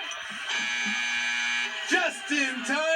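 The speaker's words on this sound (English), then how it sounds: "there goes our 30-second buzzer" A game show buzzer on a 1990s Sesame Street alphabet game, a steady buzzing drone that holds for about two seconds before voices break in with excited talk over the end.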